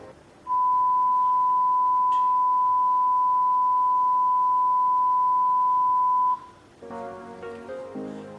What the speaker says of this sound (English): if you don't like the sine wave tone, please mute for at least 5 seconds.